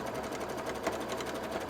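A sewing machine stitching petticoat layers runs close up with a steady, fast rhythmic whir, heard alone with no talk.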